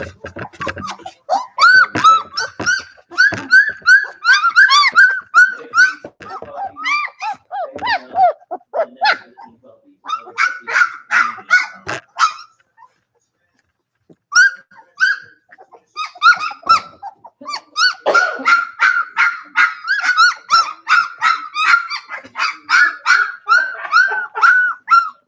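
Several puppies bark, squeak and whimper loudly and close by in long overlapping bursts, with one brief pause near the middle.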